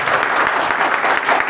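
An audience bursts into dense, continuous applause, loud and close, filling the whole moment without a break.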